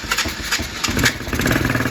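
A cheap Chinese ATV engine cranks and fires up, a loud close rough sputtering that settles into a ragged running rhythm.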